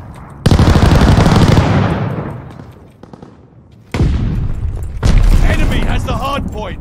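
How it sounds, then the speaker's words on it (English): An air strafing run in a multiplayer shooter video game, with loud, close bursts of rapid gunfire and heavy explosions in several waves, and voices under the blasts. "Enemies call a strafing run."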